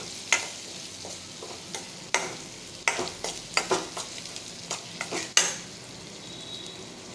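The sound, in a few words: onion and garlic sautéing in a pan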